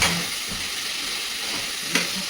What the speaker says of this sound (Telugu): ఒకవైపు దొండకాయ వేగుతుంది